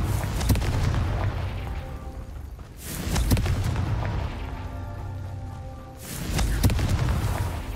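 Confringo fire spell blasts in the Hogwarts Legacy video game, three loud booming explosions spaced a few seconds apart, each with a rumbling tail, over continuous game background sound.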